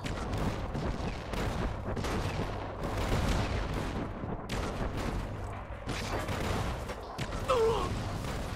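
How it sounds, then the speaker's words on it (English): Carpet bomb strike in Fallout: New Vegas, a dense barrage of booming explosions and crackling gunfire rolling continuously, loud and chaotic, with a brief voice faintly heard. "I think the carpet bomb's gonna miss."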